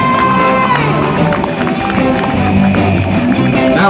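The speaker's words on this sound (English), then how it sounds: "Let's have a big round of applause for the flutes and clarinets" Crowd cheering and whooping with clapping after a school band's flutes and clarinets finish playing, a loud, dense roar that holds steady throughout with sustained tones mixed in.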